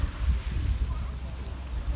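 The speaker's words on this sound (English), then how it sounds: "it's kind of windy, so hopefully you can hear me" Wind buffets the microphone outdoors near Old Faithful geyser in Yellowstone, a low, rumbling gusty roar that fills the short stretch steadily with no clear voice.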